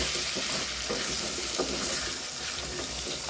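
Beef stew stirred in a saucepan on the stove for a rice stew, a steady close sizzle with soft scraping and stirring motions, no voices.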